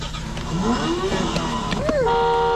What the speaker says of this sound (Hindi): स्टार्ट करो गाड़ी को।